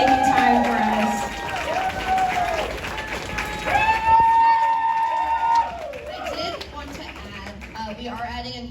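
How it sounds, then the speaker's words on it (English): Applause from an audience at a TouhouFest 2025 cosplay contest, a dense wash of clapping with some cheering, while a host talks over it throughout. "another big round of applause for everyone else who participated"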